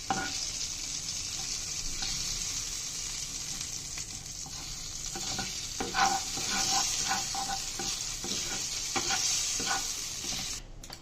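Mustard and cumin tempering seeds sizzle and crackle steadily in hot ghee for a green peas curry, a constant close frying hiss with scattered pops and the occasional stir.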